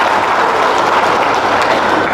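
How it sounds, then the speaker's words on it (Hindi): Church congregation clapping in praise of the Lord, a dense, steady round of applause close by that carries on evenly throughout. "चलो एक बार तालियां हो जाए प्रभु के लिए"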